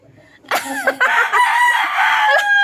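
A rooster crows loudly and close by, a long sustained call after a few short clucks from a chicken.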